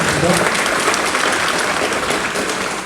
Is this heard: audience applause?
yes